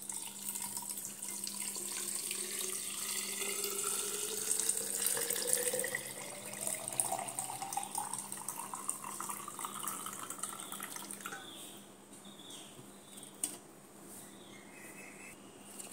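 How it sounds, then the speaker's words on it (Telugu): Water runs steadily into a glass jar for about eleven seconds while a detox drink with mint and ginger is prepared, then trails off, with a faint constant hum underneath. "ఇదిగోండి, ఇప్పుడు మనం వాటర్ వేసుకోవాలండి."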